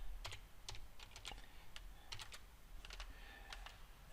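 Fingers typing on a computer keyboard, short clusters of light, quick key clicks with pauses between them, faint and close over a low steady hum.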